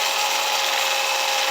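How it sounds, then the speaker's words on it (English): A power drill whirs steadily as it mixes casting material for cones, a continuous rough, grinding churn heard up close with no pauses and no talking. "doing it with the drill like this"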